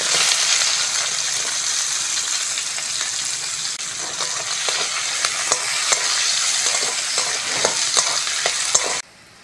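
Chopped onion sizzles and fries steadily with panch phoron in hot oil for a Bengali fish curry, a loud continuous crackle broken by frequent sharp stirring clicks, ending abruptly with no one talking.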